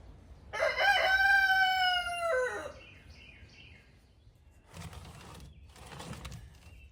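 A rooster lets out one long, loud cock-a-doodle-doo near a garden being planted with tomatoes, squash and cucumbers, followed by quieter rustling and scattered noise.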